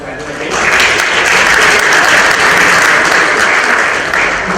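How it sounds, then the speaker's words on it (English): A live audience at an India business dialogue event gives a loud, sustained round of applause for a panel of speakers, a dense wash of many hands clapping that swells in quickly and holds steady to the end, with a murmur of voices underneath. "one big round of applause for my panel again."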